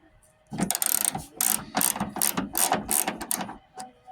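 A ratchet wrench loosens a 10 mm bolt on a car's smog canister, giving about eight close, sharp bursts of rapid pawl clicking in a steady back-and-forth rhythm, with brief pauses between strokes.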